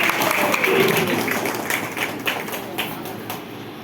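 An audience at a religious discourse in a temple hall claps loudly, a dense burst of applause that thins into scattered claps and fades over a few seconds.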